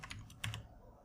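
Several quick keystrokes on a computer keyboard as a command is typed, clustered in the first half-second, then quiet; close and fairly soft.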